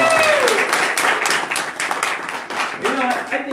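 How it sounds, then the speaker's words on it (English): A crowd claps at a birthday party, continuous loud applause with brief whoops and cheers near the end, the clapping staying dense and close throughout. "Give yourselves a big round of applause."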